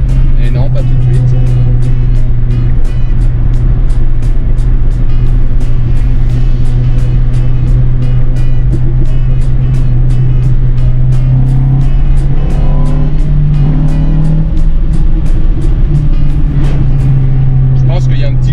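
Renault Clio RS engine droning steadily from inside the cabin while driving, rising slightly as it pulls out to overtake, with a person talking over it throughout.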